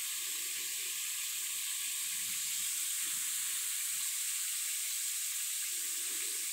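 A Harry Potter sorting hat bath bomb fizzes continuously in bath water, a steady loud hiss of bubbling close by, with faint low movements underneath and no talking.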